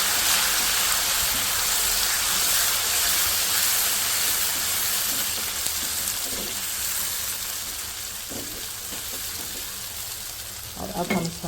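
Ginger garlic paste fries in a pan with a steady, loud sizzle. A few stirring scrapes come near the end.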